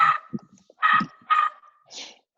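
A small dog yaps from downstairs in a house, three sharp barks in quick succession followed by a softer fourth, moderately distant and alone.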